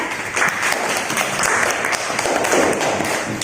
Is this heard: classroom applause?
yes